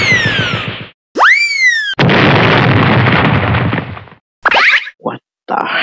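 A cartoon bomb blows up in a loud, dense burst of noise lasting about two seconds, following a rising springy whistle and trailing off into short comic pops and zips, with no talk.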